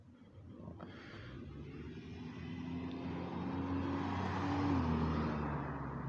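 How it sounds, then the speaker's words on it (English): A car drives past, a broadband road rumble with steady engine tone that swells from the start and peaks near the end, with no talk over it. "Car just drove by."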